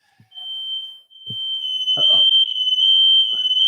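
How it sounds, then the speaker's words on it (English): A home smoke alarm goes off with a loud, steady, high-pitched electronic tone that holds almost continuously, while a few brief voices speak underneath. "it's a smoke alarm"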